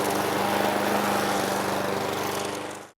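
A lawn mower runs loud and steady as it cuts long overgrown grass, its engine drone continuous and close before cutting out abruptly at the end.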